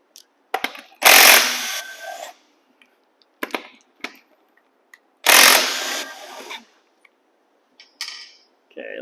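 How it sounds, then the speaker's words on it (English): Impact gun spinning lug nuts off a Mazda Miata wheel: two loud, close, one-second buzzing bursts with short rattling blips and clinks in between, separated by near silence. "So I got my gun ready to go. And we're just going to get this wheel off."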